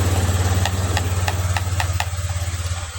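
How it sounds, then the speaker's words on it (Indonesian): A Honda Vario scooter engine idles right after starting, a steady, close, throbbing putter with an even pulse and a few light ticking clicks over it. "kita starter ya. Nah, ini hidup"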